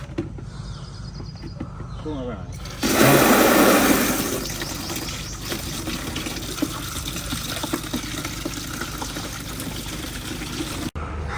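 A burst of running water gushes loudly for about a second, then settles into a steady, quieter flow with faint background chirps.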